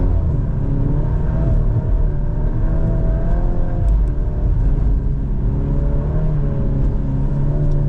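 A 2025 Volkswagen Golf R engine drones steadily at high revs under throttle on a track, its rising harmonic whine continuous and loud throughout.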